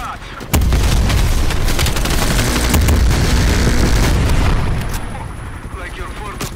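Heavy vehicle-mounted gunfire in Call of Duty Black Ops Cold War, a loud, dense barrage of rapid shots and booming explosions that lasts several seconds before easing off.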